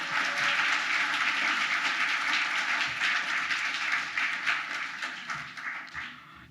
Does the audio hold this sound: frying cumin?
no